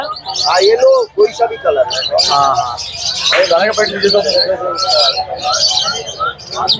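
Pigeons and other caged birds at a busy Sunday bird market in Erragadda, Hyderabad, cooing, chirping and squawking continuously and loudly, with people talking throughout.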